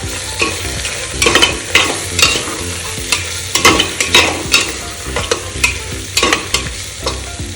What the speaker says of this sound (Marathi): थोडंसं बिर्याणी मसाला टाकायचा आणि छान मिक्स करून